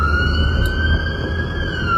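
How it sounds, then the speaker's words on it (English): A fire truck siren wails in a steady sustained tone, loud and fairly close over low rumbling traffic noise, with no speech. "Oh, it's a fire truck, actually, not an ambulance."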